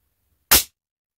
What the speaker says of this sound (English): I'm going to shoot it into that trap I got sitting there.